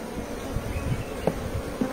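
Faint, steady buzzing of honeybees at an iron beehive during a frame inspection, a low continuous hum with a few soft knocks, no talk.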